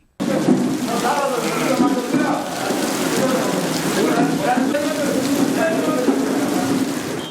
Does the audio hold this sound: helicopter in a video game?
no